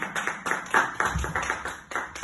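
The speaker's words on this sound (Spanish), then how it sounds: "Denle un aplauso al Señor." A small church congregation gives a brief round of applause to the Lord, a thin, uneven patter of a few people clapping nearby in quick irregular bursts.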